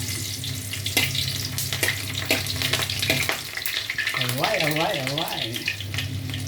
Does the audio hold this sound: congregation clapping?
no